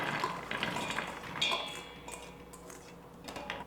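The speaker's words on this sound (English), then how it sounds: "So I have the inside of my pressure cooker here." The metal inner pot of an Instant Pot pressure cooker is handled, giving light clinks, taps and a brief ringing scrape against a quiet kitchen background.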